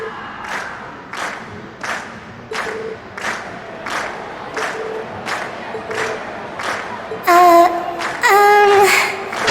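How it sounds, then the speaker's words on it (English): A crowd cheers at a concert in the video game Trails of Cold Steel, with repeated rhythmic bursts of shouting and applause before bright music swells in near the end. "we've heard your cheers loud and clear"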